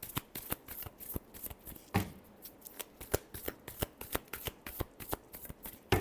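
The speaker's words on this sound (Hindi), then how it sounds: "Last shuffle." Tarot cards being shuffled by hand, with quick, crisp riffling snaps repeating in an uneven rhythm, close and fairly quiet, with no talk.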